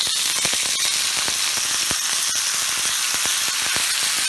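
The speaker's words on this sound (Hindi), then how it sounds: "प्याज डालकर हम इसको धीमी आंच पर सुनहरा भूनेंगे।" Chopped onion sizzling loudly in hot oil with green chillies, cumin, mustard seeds and asafoetida, a dense continuous hiss broken by frequent sharp crackles and pops, close up with no talking.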